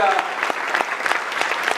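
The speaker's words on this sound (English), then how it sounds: "Give them a round of applause." Audience applause for elected officials at a public gathering, a steady burst of clapping from a crowd for nearly two seconds, with a voice speaking over it briefly.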